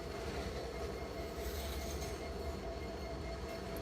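Freight train rolling past in Iowa, a low steady rumble of wheels on rails with faint squealing and rhythmic clatter, heard at moderate distance and fairly quiet, continuing without pause, no voices.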